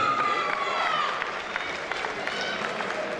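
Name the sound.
applause for a fighter introduced in the blue corner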